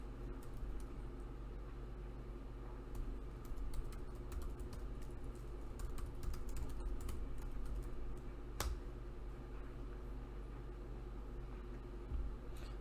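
Faint keyboard typing on a MacBook, sparse soft key taps over a steady low hum of background noise, no voices.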